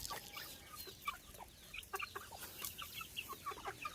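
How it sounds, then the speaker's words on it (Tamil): Chickens let out of their coop in the morning cluck and squawk in quick, irregular bursts, several birds close by and fairly loud over a soft background. "காலையில் கோழியை திறந்து விடணும் கோழியை திறந்து விட போகிறேன்"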